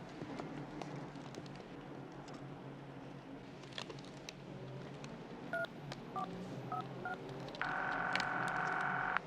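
A telephone's automatic dialer sends a rapid string of short touch-tone beeps, followed by a longer steady tone, heard faintly over busy room noise in a scene from a television crime drama.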